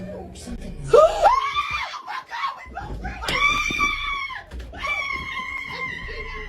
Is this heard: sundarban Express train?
no